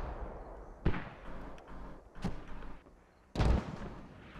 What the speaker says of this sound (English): Oh, look at these mortars.